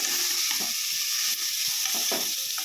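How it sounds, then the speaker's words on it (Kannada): Ingredients for Malnad-style chicken sambar fry in a pan, a continuous close hiss and sizzle with scattered soft stirring scrapes and clinks, no voices. "ಇದು ಚೆನ್ನಾಗಿ ಫ್ರೈ ಆಗ್ತಿದ್ದಂಗೆ ಈ ಮಿಕ್ಕಿರೋ ಪದಾರ್ಥಗಳನ್ನೆಲ್ಲ ಹಾಕೊಳ್ಳೋಣ."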